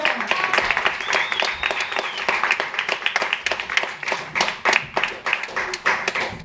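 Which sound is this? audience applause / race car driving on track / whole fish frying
audience applause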